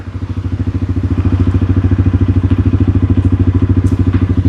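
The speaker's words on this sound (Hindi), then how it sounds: "एक बार ऑन करके मैं आपको एग्जॉस्ट नोट भी सुना देता हूँ।" TVS Apache RTR 160 4V motorcycle idling, a loud, close, steady low thumping exhaust beat with even rapid pulses throughout.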